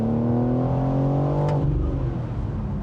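Engine of a 2025 BMW M4 Convertible revving, a loud close rising drone with a brief sharp burst midway, then settling into a rougher rumble.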